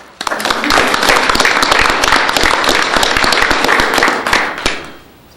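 Brief burst of clapping at a city council meeting honoring a fire department employee for years of service, a room of hands applauding steadily before stopping abruptly.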